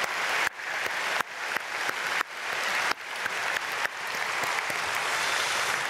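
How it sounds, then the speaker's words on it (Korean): A church congregation claps steadily for several seconds, the applause swelling in waves with a few sharp breaks, fairly loud and close, with no talking. "우리 어린 자녀들에게 박수로 다 함께 축복하겠습니다"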